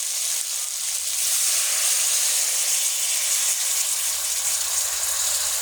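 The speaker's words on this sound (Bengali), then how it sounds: "আমি এখন ঝোল দিয়ে দিচ্ছি।" Broth poured into a hot pan of potatoes and small river fish sizzles with a dense, bright, continuous hiss, close and steady throughout, with no talk.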